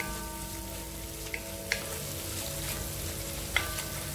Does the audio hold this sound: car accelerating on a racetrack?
no